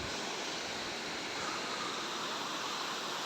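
A hillside waterfall in the Deogarh area, where water is drawn from the falls to supply the hills, roars as a steady, loud broadband rush with no break and no voices.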